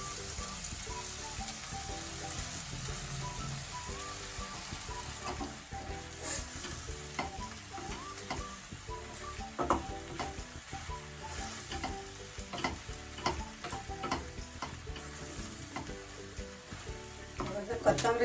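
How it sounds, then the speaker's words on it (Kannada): Soaked, washed puffed rice is added to a sour tomato masala in a hot pan and stirred, with a continuous close sizzle and frequent scraping, clattering spoon strokes throughout. "ಈಗ ಇದರೊಳಕ್ಕೆ ನೆನೆಸಿ ತೊಳೆದಿಟ್ಕೊಂಡ ಪುರಿ ಹಾಕ್ತಾಯಿದ್ದೀನಿ."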